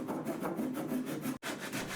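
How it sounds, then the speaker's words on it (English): Rapid back-and-forth rasping of a hand tool trimming excess material from a catamaran cross beam tower, close up, with a brief pause partway through. "I need to trim off some excess material"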